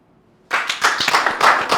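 An audience at a couples game show breaks into brisk, loud clapping after a silent start, steady and continuous close by.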